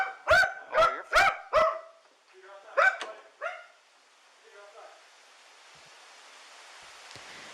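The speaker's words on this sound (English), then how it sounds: "It breaks my heart to hear him bark." Dieter the dog barks close by, a quick burst of four sharp barks, then a couple more with some whimpering, before fading to quiet room noise.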